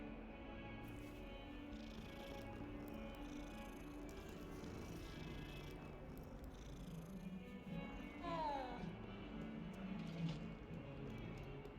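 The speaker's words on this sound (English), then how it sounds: "What's up, kitty cat?" A cat purrs steadily in Hogwarts Legacy, with a couple of brief meows near the end, heard over quiet game ambience and low background music.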